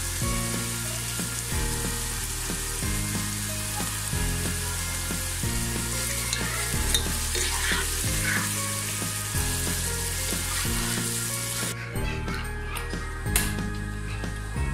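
Garlic paste fries in a pan for an ilish pulao, giving a steady, loud sizzle throughout with faint stirring scrapes and no voices.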